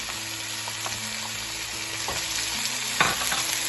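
Vegetables for egg fried rice fry over high heat in a pan, a steady close sizzle broken by a few clicks and scrapes of stirring, with a low hum behind and no voices.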